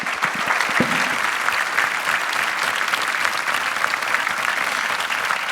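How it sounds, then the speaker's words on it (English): Audience applause at a campus conference session, dense steady clapping filling the room from start to finish with a faint crowd murmur beneath. "If I can ask for a big round of applause for Peter Verkovic and Gemma Feliciani."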